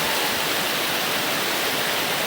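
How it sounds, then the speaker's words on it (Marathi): Shallow village stream water rushing steadily and close, a continuous broadband wash consistent with someone wading across, with no distinct individual splashes standing out. "आता चाललो मी पाण्यातून पलीकड"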